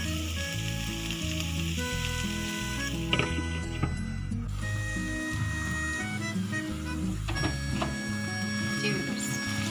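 Okra (bhindi) sizzling steadily in a pan over low heat, a close, continuous frying crackle with occasional clinks of utensils, and a voice talking over it.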